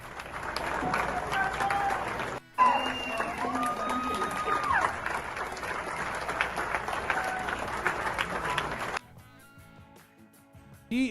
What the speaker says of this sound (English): all these numbnuts clapping for her